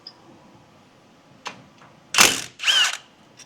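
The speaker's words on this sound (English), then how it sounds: "we are gonna take out slide pin bolts" Power tool removing the 15 mm slide pin bolts from a Ford Ranger brake caliper, two short close bursts of whirring after a faint click, in a quiet space with no talk.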